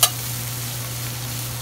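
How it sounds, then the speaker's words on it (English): Food frying in a pan as it is stirred, a soft opening scrape followed by a steady low sizzle and hum, close and continuous without talk. "So stirring this around"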